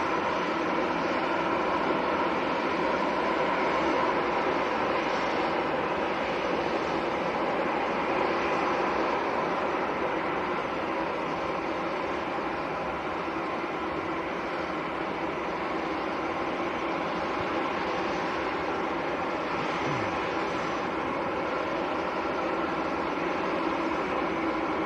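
A government-liveried Airbus A321neo airliner taxiing at Manchester Airport, its engines holding a steady, broad roar at idle that stays level and fairly close throughout, with no voices over it.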